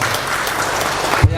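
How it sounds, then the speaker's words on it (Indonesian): A seminar audience at a university culture event claps for the organizing committee, dense, even applause filling the room, ending in a brief thump. "Tepuk tangan untuk panitia"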